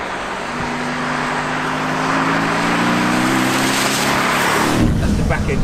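A Mercedes-AMG GT S Edition 1 accelerates hard with its rear wheels spinning, engine note climbing steadily and loudly over several seconds before a sharp shift or cut near the end.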